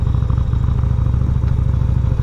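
A 1988 Yamaha Virago 250 motorcycle engine idles close by with a steady low pulse, and a fast metallic rattle from a loose foot peg chatters along with it.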